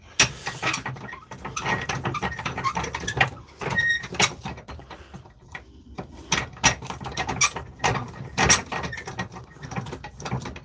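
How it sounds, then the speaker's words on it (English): A Bosch power tool part being clamped and tightened in a bench vise, with close, irregular metallic clicks, ratcheting and rattling clunks in uneven bursts and no talk. "I'll put her in the vise to see if it helps me"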